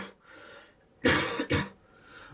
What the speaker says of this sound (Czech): Omlouvám se vám, že kašlu